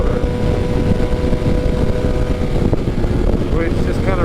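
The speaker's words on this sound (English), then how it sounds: "The bike sounds different for sure." A BMW S1000RR motorcycle, tuned for torque and fitted with a new servo motor, idles steadily and loudly in a continuous dense engine drone on a mild day outdoors, with no clear revs.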